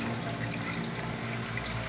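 Water streams steadily through the intake bay and wetland filter of a backyard recreational pond, a continuous close burbling rush at moderate volume with no voices.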